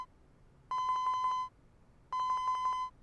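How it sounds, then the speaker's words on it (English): A mobile phone rings in the video game 428: Shibuya Scramble. It gives two trilling electronic bursts, each about three quarters of a second long and separated by a short pause. The rings are clear and close over quiet background, with no voices. "Osawa's phone rang and Minorikawa's phone number popped up on t"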